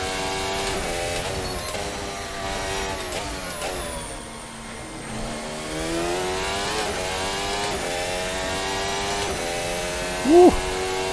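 A Formula Hybrid 2022 F1 car in Assetto Corsa accelerates hard, its high whining engine note climbing through gears with repeated rising sweeps and a brief dip around a shift, loud and continuous with no speech.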